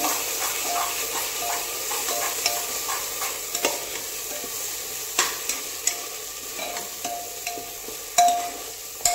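Coriander-heavy spice paste for a chicken curry being stirred in hot oil, a soft continuous sizzle broken by frequent spoon scrapes and taps against the pan, close and clear.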